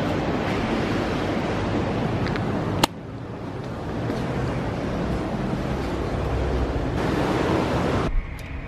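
A spa shower runs steadily, a dense continuous hiss of falling water with a sharp click partway through and a slight change in tone near the end.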